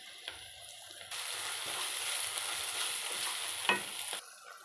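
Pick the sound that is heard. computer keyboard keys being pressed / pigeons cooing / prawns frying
prawns frying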